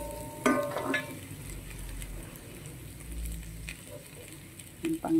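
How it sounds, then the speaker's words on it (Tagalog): Onion and garlic hit hot oil in a pan for sautéing, giving a steady sizzle with a few stirring clatters, close and moderately loud, no talk over it. "So mag-saute tayo na. Ayan. Lagyan natin ang onion."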